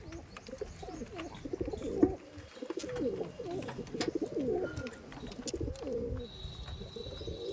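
Pigeons in a loft cooing, overlapping throaty coos and burbles from several birds close by, with occasional chirps and a brief thump partway through.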